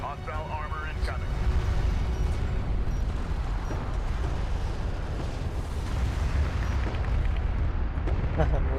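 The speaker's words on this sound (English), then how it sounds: "Look at the fucking barrage." An artillery barrage in the real-time strategy game Homeworld: Deserts of Kharak pounds away as a deep, continuous rumble of explosions. Radio-style voices and chirping game signals sound over it.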